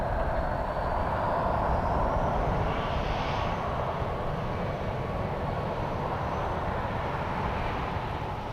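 A Boeing 737 MAX 8 airliner arriving at Dallas Love Field, heard as a continuous broad roar of engines and rushing air with a faint rising whine, steady and moderately loud throughout.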